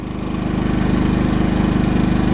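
Champion 3100-watt inverter generator engine running steadily at close range, a loud, even mechanical drone with a rapid regular pulse and no voices.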